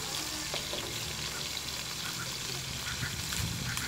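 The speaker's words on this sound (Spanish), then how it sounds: "aquí la vamos a dorar y en la entomatadita se va a terminar de cocer" Pork ribs browning in a frying pan give a steady loud sizzle and crackle throughout, with people talking over the frying.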